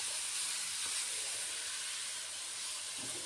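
Crushed cabbage and carrot fry in a hot pan, giving a steady, bright hiss and sizzle throughout with a few faint clicks underneath.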